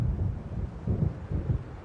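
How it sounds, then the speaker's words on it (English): A storm rolling in within Alan Wake Remastered, a low continuous rumble of distant thunder and wind that swells in a few slow waves. "It seems there's a storm coming."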